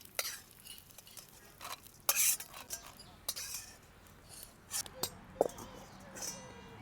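Split chickpea dal dry-roasting in a pan until reddish, with sparse scraping and stirring clicks and a few brief clatters over a quiet background; no sizzle of oil.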